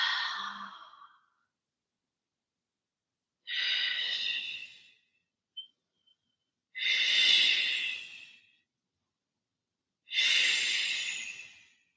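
Slow deep breaths during a vinyasa yoga flow, four long airy exhales spaced by silent pauses, close and soft with no talking.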